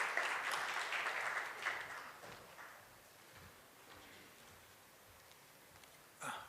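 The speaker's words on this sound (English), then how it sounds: "Please give a warm round of applause for sir." An audience at a technology summit and awards event applauding, the clapping moderately loud at first, then fading to a faint patter, followed by a short burst near the end.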